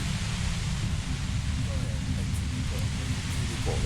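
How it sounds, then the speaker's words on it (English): Steady, dense white-noise static hisses through a scene in the video game Disco Elysium, a loud, unbroken wash filling the whole clip with no gaps or rhythm. "You hear through the white noise. It's especially bad suddenly."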